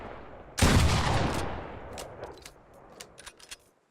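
Heavy shotgun fired in the video game Fortnite: one loud, booming blast that rings out and decays, followed by a scatter of fainter sharp pops and clicks.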